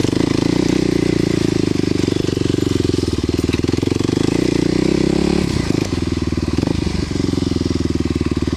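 Kawasaki KLX250sf single-cylinder motorcycle ridden over a bumpy, rocky road, its loud close engine drone pulsing steadily, with rattles and jolts from rough ground toward the end.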